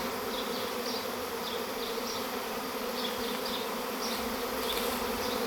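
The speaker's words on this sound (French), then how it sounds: "Il y a un beau paquet d'abeilles là" A large honey bee swarm, collected at a château, buzzes steadily and close by, a dense continuous hum with individual bees whining past now and then; no one speaks.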